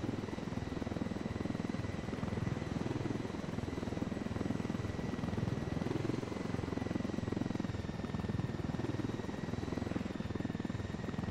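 Steady helicopter rotor thudding with a constant engine whine in Ghost Recon Wildlands, continuous and loud, the rapid chop holding even throughout.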